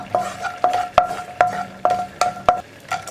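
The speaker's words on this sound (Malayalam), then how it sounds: "കാഷ്നട്ടിൻ്റെ കളറൊന്ന് മാറി വരുന്നത് വരെ ഒന്ന് ഇളക്കി കൊടുക്കുക." Cashew nuts fried in a pan for a ripe banana and lentil snack, stirred with a spoon that scrapes and clinks against the metal in about seven quick, regular strokes, each close and fairly loud.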